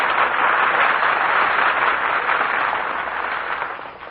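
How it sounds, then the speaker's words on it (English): Studio audience applause on a 1940 Jack Benny radio broadcast, a dense, steady roar of clapping that holds for several seconds and slowly thins toward the end, with no voices. "Gee, was all that applause for me?"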